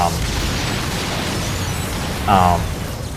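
A destroyed node explodes in the video game Star Fox Zero, a dense, rumbling blast that keeps going over continuous game noise, with a louder burst near the end.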